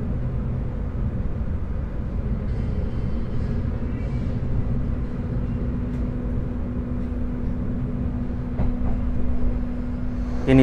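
The Argo Bromo Anggrek luxury train in Indonesia runs along with a steady low rumble and constant hum heard from inside the carriage, with faint clicks and rattles over the top.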